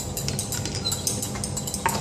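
A utensil stirs a pot during a chemistry demonstration, giving a steady run of light clinking and scraping taps against the sides, close and fairly quiet, with no talking.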